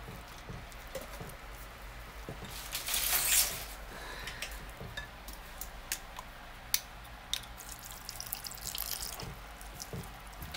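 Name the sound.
water being added to cod fish fritter batter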